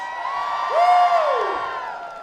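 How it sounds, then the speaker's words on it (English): A large outdoor crowd at a university lawn lighting event cheers and whoops, one voice rising in a loud swooping shout over a steady wash of applause and crowd noise. "Let's give the twirlers, Christian Who's Exalt, and the Flying Bees another round of applause."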